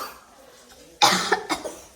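A child coughs once sharply and close, followed by two smaller cough bursts in quick succession after a quiet room background.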